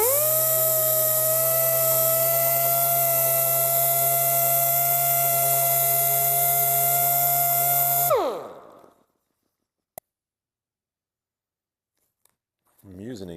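Sticky-back sanding pad worked lightly over the pitted, corroded mating surface of a Mercedes M113 engine oil cooler, a loud steady whirring drone for about eight seconds that winds down and stops, followed by near silence.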